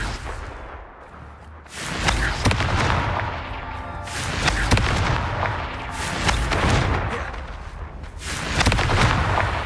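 Repeated Confringo fire-spell blasts in the Hogwarts Legacy video game, loud booming explosions arriving every couple of seconds with crackling, rumbling tails between them.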